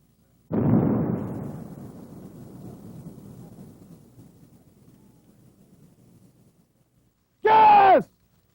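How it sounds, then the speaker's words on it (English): A line charge detonates to clear a minefield during the Desert Storm ground assault: one sudden, loud blast that rolls into a long, fading rumble over several seconds, followed by a brief shout. "The rocket drags the line charge over the minefield, and it is detonated once it strikes the ground."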